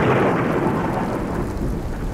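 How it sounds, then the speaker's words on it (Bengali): Heavy rain pours down steadily with a deep rumble of thunder as a storm sets in, a dense, loud wash of noise filling the whole moment with no voices. "এই যা, কেড়ে বৃষ্টি শুরু হয়ে গেল।"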